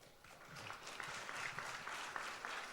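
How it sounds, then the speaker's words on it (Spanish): Seated audience at a panel event applauding an introduced doctor, a moderate, steady patter of many hands clapping that swells slightly after the start and holds evenly, heard somewhat distant. "También un aplauso para el doctor, por favor."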